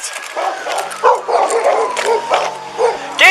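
A dog barks and yips repeatedly from a house during a tense police confrontation, the sharp bursts coming in an uneven series over steady background noise.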